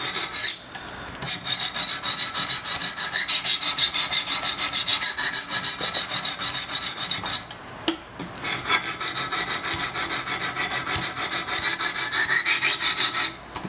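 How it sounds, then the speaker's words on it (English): Sebenza 21 Insingo knife blade being sharpened on a Wicked Edge guided sharpener, steady rapid rasping strokes of stone on steel, loud and close, in two long runs with a brief pause between. "Sharpening some knives."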